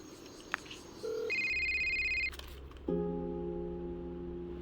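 A telephone rings in a dramatic scene, with electronic tone bursts at steady pitches and a short mid-clip chirp, then a sustained ringtone chord, all heard clearly with no one talking.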